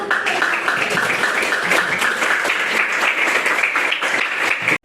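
A classroom of students applauds a group about to present, steady dense clapping throughout that stops abruptly at the end.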